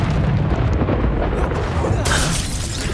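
A loud, rumbling blast from the Confringo spell in Hogwarts Legacy, with a dense booming roar that swells into a bright crackling burst near the end.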